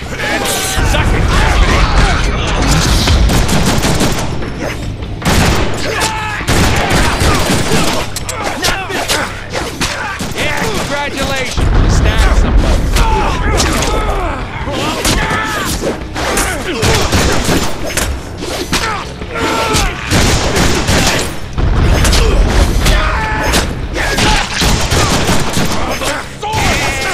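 Dense, sustained gunfire from a Deadpool video game, with rapid bursts, booms and crashing impacts running nearly nonstop at high loudness, under intermittent voices.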